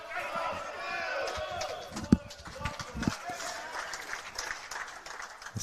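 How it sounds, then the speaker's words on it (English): A brief cheer from the men's rink at the Australian Senior Sides lawn bowls championship rises over steady outdoor crowd murmur and wind, with a couple of sharp knocks; commentators talk throughout. "Big cheer comes from the men's rink."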